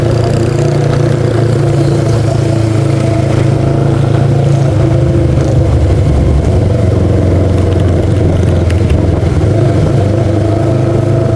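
A motorcycle engine runs on a short ride, a steady, loud, low drone with a constant rumble and no breaks.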